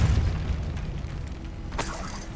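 A Depulso spell cast in the Hogwarts Legacy video game: a heavy booming blast fading into a rumble, then a sharp burst near the end.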